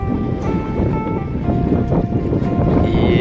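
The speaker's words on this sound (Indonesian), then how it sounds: "Weh, ngeri ombaknya ini." Rough sea waves slap and wash against a small fishing boat, a loud continuous churn of water and wind with steady rushing noise and no speech.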